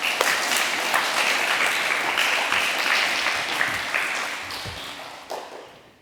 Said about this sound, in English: Please give them all a round of applause.